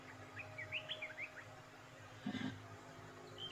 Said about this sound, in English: My goodness, you could actually hear birds.